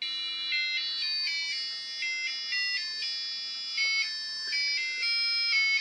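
A buzzer on an Arduino shield beeps out a rough attempt at Happy Birthday: a run of short, stepped electronic tones at varying pitches, steady and fairly quiet, with no voices.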